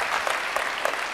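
An audience cheers and claps steadily at a session on data joins and blends, a dense, continuous wash of applause with no break.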